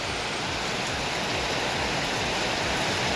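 Heavy rain pouring down near a room's door, a dense, steady, loud hiss with no break and no voices.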